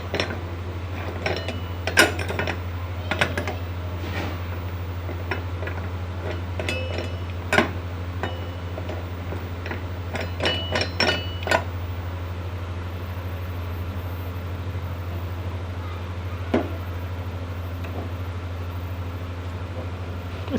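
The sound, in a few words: closing pressure cooker lid and placing weight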